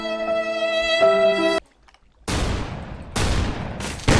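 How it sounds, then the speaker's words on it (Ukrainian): A sustained electronic tone cuts off, followed after a brief pause by two loud bursts of Minecraft gunfire, harsh and noisy. "Вони ще стріляються."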